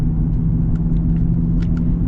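2022 Ford Bronco Sport Sasquatch driving uphill, a close, steady low engine and road rumble with a few faint light clicks, no talk.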